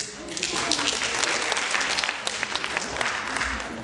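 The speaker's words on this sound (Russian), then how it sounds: "А давайте мы его поддержим аплодисментами." An audience at a political-analysis talk on the eurozone crisis gives sustained, loud applause that fills the whole clip, a dense steady roar of many hands clapping close by.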